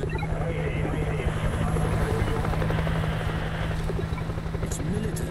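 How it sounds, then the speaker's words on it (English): A video game helicopter thumps with a steady rapid rotor chop, fairly close and continuous, with faint voices beneath it. "Is that a helicopter?"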